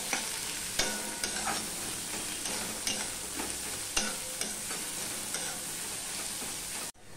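Onions frying in a pan for a Katla fish curry, a steady close sizzle with repeated scraping strokes of a spatula stirring, continuous throughout with no talk.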